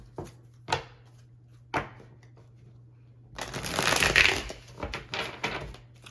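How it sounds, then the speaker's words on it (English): A tarot card deck is riffled and shuffled by hand: a few short card flicks, then a longer rustling burst of cards cascading together, fairly close and clear with no talking. "It's easier for me to shuffle one deck than two"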